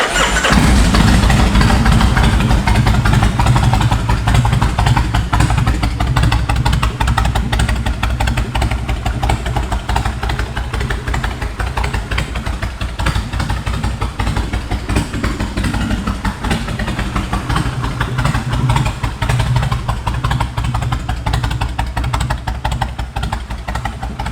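A Kawasaki Mean Streak motorcycle engine fires up right at the start and settles into a loud, steady, rumbling idle that holds close and unbroken for the rest of the stretch.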